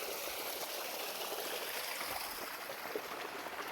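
Irrigation water runs steadily through a cotton field, a continuous broadband rushing and trickling that stays even and close throughout, with no voices.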